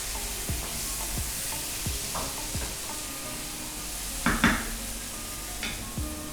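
Masala for a dhaba-style egg curry fries steadily in a pan, a constant sizzle broken by regular scraping and clinking from a stirring spoon, close and moderately loud with no voices.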